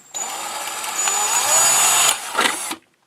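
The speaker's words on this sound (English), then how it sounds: "get your drill out and just drill these 4 holes" A power drill with a 5 mm bit whirs loudly for a couple of seconds, then gives a shorter second burst before stopping.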